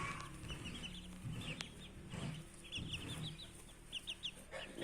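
Village chickens and month-old chicks cluck in a coop, with soft high peeps scattered throughout over lower hen clucks, steady and moderately close.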